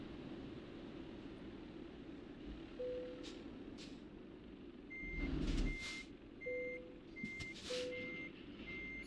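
In American or Euro Truck Simulator, a parking truck sounds its reversing alarm as a string of short, steady electronic beeps over a low engine rumble, with a brief louder burst of engine or air noise midway.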